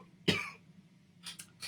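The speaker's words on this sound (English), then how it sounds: "excuse me, I'm going to cough" A single sharp cough from a man with a peanut stuck in his throat, close and loud, followed by quieter breathy rasps about a second later.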